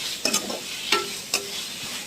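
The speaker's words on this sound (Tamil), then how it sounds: "அதை நல்லா வதக்கிக்கிறேன் அந்த இஞ்சி பூண்டு பேஸ்ட்" A soft, steady sizzle of ginger garlic paste frying in oil, with a few scraping stirs of a spoon against the pan. Quiet and close.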